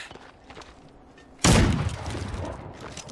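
A single loud gunshot from a weapon in the Wintermute game cracks out close by after a quieter stretch, then trails into a rumbling echo with softer thuds.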